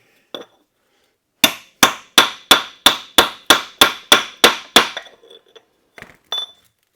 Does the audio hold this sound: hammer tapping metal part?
yes